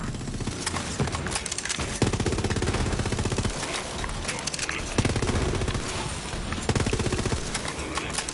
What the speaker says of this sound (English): He's just shooting the ground.